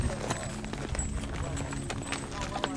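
Horses walking during a cattle drive in Arizona produce soft, uneven hoof clops under a steady rumble of outdoor noise, with people talking nearby.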